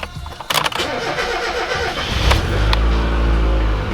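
A Mazda Miata engine cranks with a few stuttering turns, catches, and settles into a loud, steady idle close by, with a couple of sharp clicks near the start.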